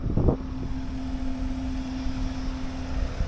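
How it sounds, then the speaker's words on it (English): A Bobcat 863 skid-steer loader with an oil-cooled Deutz engine runs at a steady idle, giving a constant low drone with a faint whine and wind noise, after a brief clatter at the start. "This machine here, it's 863 Bobcat. It's got a Deutz engine."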